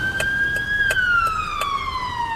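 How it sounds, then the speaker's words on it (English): An ambulance siren sweeps past at close range, a loud wailing tone that slowly glides downward as it moves off, steady over low road rumble. "An ambulance siren is one of those sounds you just can't ignore, right?"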